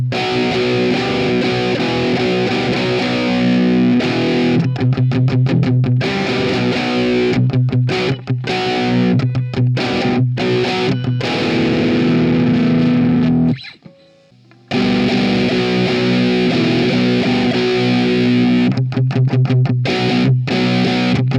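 An electric guitar plays through a homemade Mixtortion distortion pedal, heavily saturated chords and riffs switching between baseband and passband modes with short pauses, loud and continuous.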